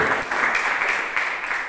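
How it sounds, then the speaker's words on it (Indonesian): Audience applause at a church sermon, a steady wash of clapping from a congregation that holds at an even level from start to finish, with no voices standing out. "Beri tepuk tangan terbaik buat"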